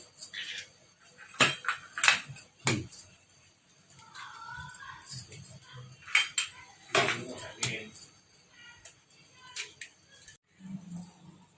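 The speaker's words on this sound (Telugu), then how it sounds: "ఒక 6 గుడ్లు పోసుకుంటున్నా నేను." Six eggs go into a pot to boil, giving a series of clinks and knocks against the metal with irregular pauses and a faint voice underneath.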